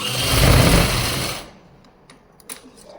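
A sewing machine runs a quick seam on a salwar, a loud steady whir for about a second and a half before stopping, followed by a few faint handling clicks.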